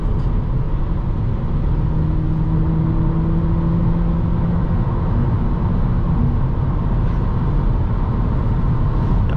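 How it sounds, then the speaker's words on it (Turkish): Inside a quiet car with a 1.5 engine on the move, a steady loud roar of wind and tire noise fills the cabin, with a low engine hum beneath and no voices. "Şu anda rüzgar sesi geliyor ve teker sesi geliyor."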